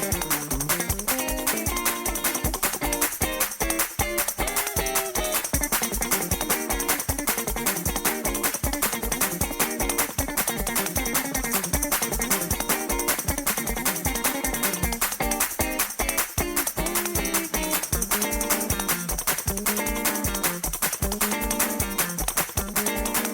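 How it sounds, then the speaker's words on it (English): A fast gospel guitar praise break plays as a dense, driving stream of rapid strummed and picked notes with a steady pulsing rhythm, loud and continuous throughout, with no talk. "Fast gospel guitar or praise breaks sound like this."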